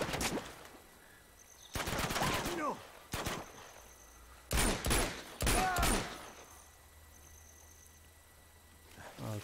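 Enemy gunfire in Uncharted 2 set in Borneo, several loud rapid bursts of automatic shots in separate clusters with quieter gaps between, alongside a voice talking.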